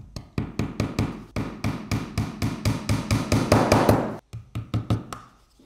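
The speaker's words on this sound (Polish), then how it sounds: "można to również też przybić takimi oto małymi gwoździami" Rapid hammer blows drive small nails into a wooden key cabinet, about fifteen sharp close taps in a steady quick rhythm, a brief pause, then several more strikes.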